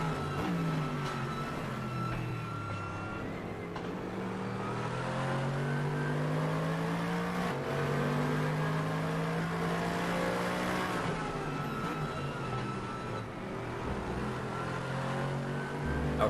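A race car engine in a racing video game drones and revs through shifting gears, the exhaust note rising and falling steadily and fairly quietly, with no talk.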